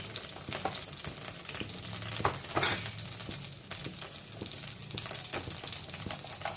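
Panch phoron spice mix, heavy on black cumin, sizzles in hot oil with a continuous crackling hiss, close and fairly quiet, with a few sharper pops and a brief swell partway through.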